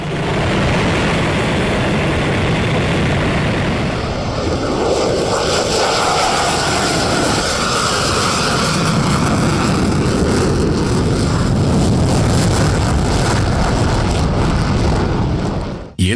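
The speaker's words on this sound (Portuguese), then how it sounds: "os projetistas conseguem reduzir significativamente o monstruoso som produzido pelos caças e os aviões civis" Loud, steady roar of a jet aircraft engine, continuous throughout and rising in intensity midway, alone without talk before cutting off abruptly at the end.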